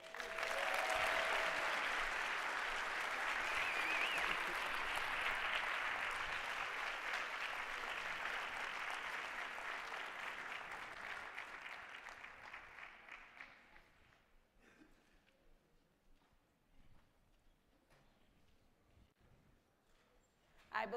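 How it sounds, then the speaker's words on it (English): Sustained audience applause at a lecture on race and social justice, a dense roar of many hands clapping that holds steady for about twelve seconds and then thins out and fades to scattered claps and quiet. "Give yourselves a big hand."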